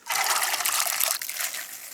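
Water poured into a cooking pot while beef with vegetables is being prepared, a steady splashing, trickling pour that runs close and fairly loud for about two seconds, easing slightly near the end.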